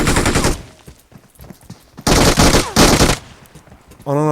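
Loud bursts of automatic gunfire in PUBG Mobile, with one heavy volley up front and two more dense bursts midway, separated by quieter gaps with faint talk.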